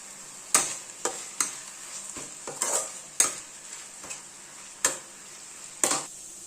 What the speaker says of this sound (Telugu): వేసి ఎర్రగా వేయించాలి. Coriander, onion, garlic.